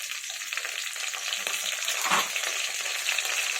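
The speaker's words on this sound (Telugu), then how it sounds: "బాగా వేయించుకోవాలి. కరివేపాకు," Curry leaves frying in hot oil, a close, steady crackling sizzle with a soft stir partway through, no talk.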